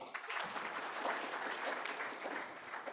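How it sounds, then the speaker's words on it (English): A conference audience claps steadily, a dense patter of many hands that stays fairly even and fills the hall, heard alone without speech. "Please, let's give them a hand clap."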